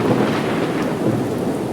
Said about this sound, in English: right now I'm going to start playing the thunder.